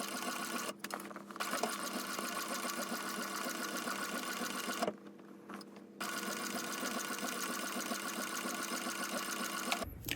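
A sewing machine runs fast and steady while stitching binding around the edge of a 33 West bag, with two brief pauses before the close whirring motor starts again.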